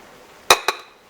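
Two sharp ceramic clinks in quick succession, a plate set down onto a dish of salted eggplant and then a heavy weight placed on top, close and otherwise quiet.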